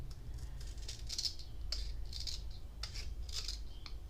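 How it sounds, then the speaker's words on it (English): Scissors trim a paper disc ornament with a series of close, crisp snips at an uneven pace over a low steady hum. "if yours looks like it needs to be trimmed, just trim it off"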